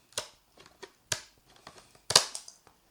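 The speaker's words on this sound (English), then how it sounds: "I will again just use kitchen scissors and cut this" Kitchen scissors snip through foam for a model aircraft build: a few sharp, crisp cuts spaced irregularly, close and fairly quiet, with a louder double snip near the end.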